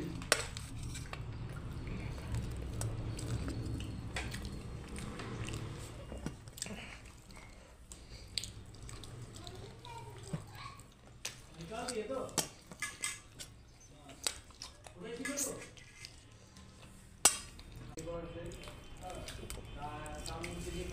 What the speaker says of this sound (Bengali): টেস্টি টেস্টি খাবার আমি খাচ্ছি